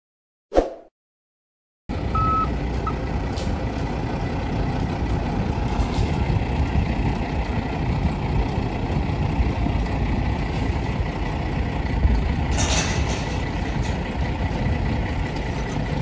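A semi truck hooked by chain to a trailer rumbles steadily at close range, a heavy low diesel drone with a brief hiss burst partway through, following a short knock and silence at the start, no talking.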